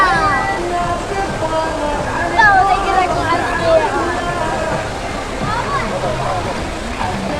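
A waterfall in the mountains of Iraqi Kurdistan roars as a steady, loud wash of rushing water, with a lively crowd and children's voices audible over it.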